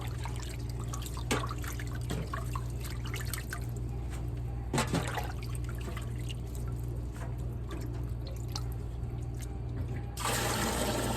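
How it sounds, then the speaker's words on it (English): Water splashes and trickles at an outdoor garden wash station, with a few sharper pours and drips over a steady low hum, ending in a brief louder rush of running water. "Then I'm gonna dump this water and then I'll run some more water."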